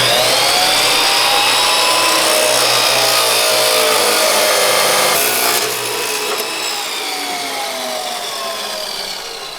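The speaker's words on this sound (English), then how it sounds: "we got a Harbor Freight Drill Master 14-inch industrial cutoff saw" A Harbor Freight Drill Master 14-inch industrial cutoff saw grinds through steel rod in a workshop, a loud continuous abrasive screech with shifting whining tones that eases slightly toward the end.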